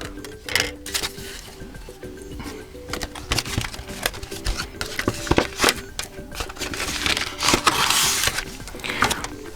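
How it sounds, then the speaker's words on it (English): A small cardboard box holding a tempered glass screen protector for a Motorola Moto G62 is handled and opened up close, with dry scraping, tapping and rustling clicks in irregular bursts, fairly quiet. "So we have to open the box with the tempered glass."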